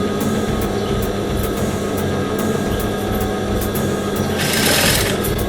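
A sewing machine stitches a rolled hem on a fabric shawl, running as a loud, close, continuous rapid mechanical whir with steady needle clatter, a brief surge in the last second, and no voices.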